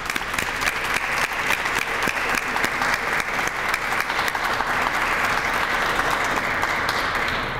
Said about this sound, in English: Let's give these organizations a warm round of applause.